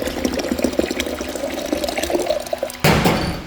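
Water pours into an old, disused kettle with a steady close splashing trickle, swelling into a louder, fuller gush near the end.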